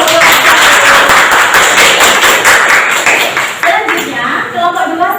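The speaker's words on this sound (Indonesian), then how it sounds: "Kasih aplaus." Applause for a student group after their first classroom presentation during a teacher training assessment at Universitas Muhammadiyah Malang: dense, loud clapping throughout, thinning toward the end with voices mixed in.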